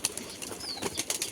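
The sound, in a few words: pigeons being released, flapping wings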